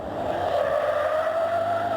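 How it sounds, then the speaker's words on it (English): Drift car tyres squeal at JMS Drift Day at Port Gawler Off-Road Park, South Australia, a sustained, loud screech with a rising engine note running continuously through the short burst. "We saw the expected drift cars"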